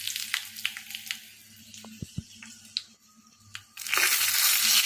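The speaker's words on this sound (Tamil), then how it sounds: "கடுகு பொரிஞ்சதும் வரமிளகா காரத்துக்கு ஏற்ற மாதிரி நான் 4 காஞ்ச மிளகாய் எடுத்துருக்கேங்க" Four dried red chillies drop into hot oil after the mustard seeds have spluttered, giving scattered sharp crackles and pops, then a sudden loud, steady sizzle near the end, with no talking.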